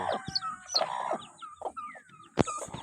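Mixed flock of native, Rhode Island and Plymouth chickens clucking and calling in a yard, several overlapping bird voices at moderate distance with one sharp, louder squawk near the end and no talk.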